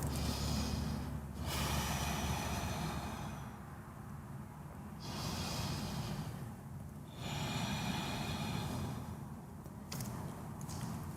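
Deep, audible breathing during a yoga forward fold in a power flow class, with three long slow breath cycles of rising inhales and falling exhales, close and clear, no talking.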